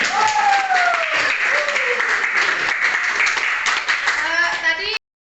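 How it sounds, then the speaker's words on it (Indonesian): Students in a classroom applaud for group 1: a steady, loud burst of clapping lasting about five seconds, with children's voices and a cheering tone mixed in, ending abruptly. "beri aplaus untuk kelompok 1"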